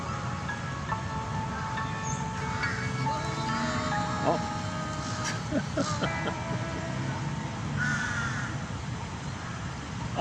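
Crows cawing nearby outdoors while a monitor lizard holds a fish, with several harsh caws over steady background noise and people talking throughout.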